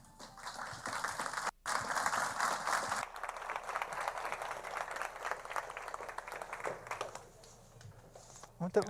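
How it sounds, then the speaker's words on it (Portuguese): An audience claps to welcome a guest speaker onstage at a café filosófico talk. The clapping is dense at first, breaks off for an instant, then resumes and gradually thins into scattered claps. "Vamos recebê-la com aplauso."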